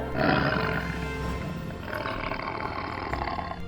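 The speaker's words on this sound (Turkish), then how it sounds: "kaplan ve aslan." At a zoo, a tiger and a lion let out a loud, deep roar that swells early and then trails into rumbling growls, close and continuous.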